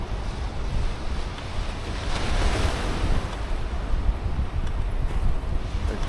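Ocean surf at a beginner surf spot in Maui washes in a continuous soft roar, with gusty wind noise over the microphone throughout.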